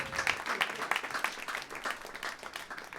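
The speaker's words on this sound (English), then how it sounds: "Give him a round of applause, Kyle Clark." An audience at a comedy roast claps and applauds steadily, a dense patter of many hands, fairly quiet and distant, with no voices standing out.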